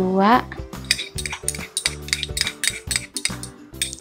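A metal spoon scoops colorant paste for homemade lipstick, clinking against its container in a quick series of distinct, close clicks and taps.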